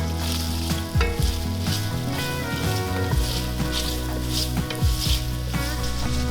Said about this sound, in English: I'm gonna add my kielbasa sausage, and we're gonna brown this up for about 5 to 6 minutes